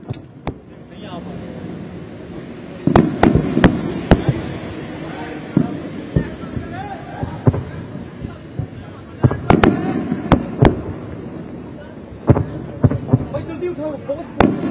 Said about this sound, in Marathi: सीमेवरती पाकिस्तानच्या गोळीबाराचा आवाज ऐकू येतोय